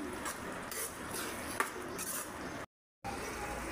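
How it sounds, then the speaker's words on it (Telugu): Tomato egg curry being stirred in a pan with chilli powder added, a spoon scraping and clinking against the metal at close range in a steady run, broken by a short silent gap near the end. "కర్రీ అంతా బాగా కలుపుకుందాం."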